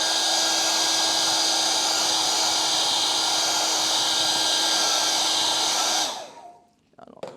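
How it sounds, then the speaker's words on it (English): A blow dryer runs steadily at close range, drying a thin coat of paint, with a constant whirring hiss and a faint whine that cuts off at about six seconds and winds down into near silence. "I'll get my blow dryer for just a second"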